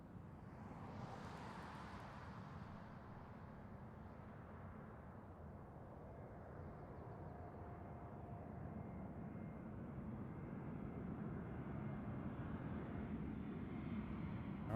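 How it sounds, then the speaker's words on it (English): An Airbus A220 airliner arrives at Seattle airport in the evening, its broad jet roar steady and swelling slightly as it nears, heard alone from a distance with no voices. "All right, here's our A220."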